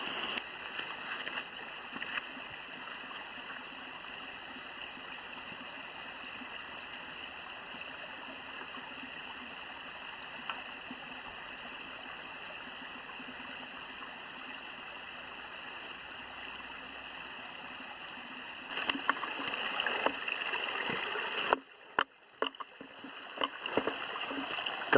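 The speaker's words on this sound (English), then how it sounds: "I decided to follow this small stream up the slope, which for now goes in an eastward direction." A small stream flows down a slope with a soft, steady wash of running water throughout. Some louder rustling and clattering comes near the end.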